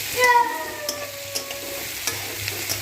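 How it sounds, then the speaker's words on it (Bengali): Duck meat with chopped tomato is stirred in a hot frying pan, producing a soft sizzle broken by scraping strokes and a few thin squeaky tones, heard close and alone. "টমেটো কুচি অ্যাড করে নেব। আবার একটু নাড়াচাড়া করে নিলাম।"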